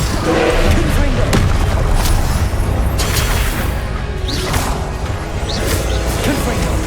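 Confringo fire spell explosions in Hogwarts Legacy boom repeatedly through a loud, continuous wash of combat noise, with whooshes and voices mixed in.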